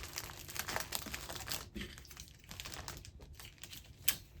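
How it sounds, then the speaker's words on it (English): Clear plastic being folded over while packing an Operation Christmas Child shoebox, heard as quiet close crinkling and small crackles in a soft, irregular run with a few sharper taps. "So I'm going to fold it over."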